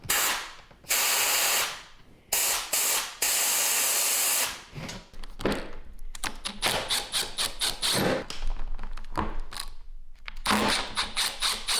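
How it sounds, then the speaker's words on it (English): Air compressor nozzle blasting air through the drain valve of a pop-up camper air conditioner, loud close hissing bursts of a second or two each, then a choppy series of shorter spurts and clattering handling noises. "we're gonna fire up the air compressor, hook this up, and then just blow some air through it"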